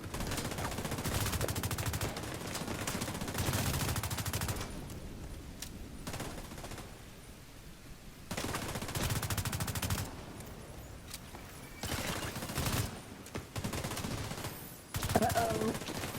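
Repeated bursts of gunfire in a shooter video game, loud stretches of rapid shots broken by quieter pauses, with some talking mixed in.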